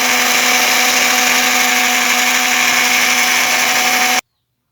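An electric mixer whirs steadily while beating sugar, whipped egg whites and yolks into a cream, a constant high motor drone that cuts off abruptly at the end.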